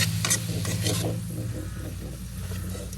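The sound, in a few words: eggplant being sautéed and stirred in a pan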